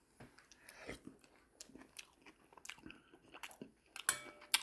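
Someone bites and chews bacon ice cream, with close, crunchy bites and wet mastication sounds in irregular bursts, and a sharper crunch near the end, with no talking.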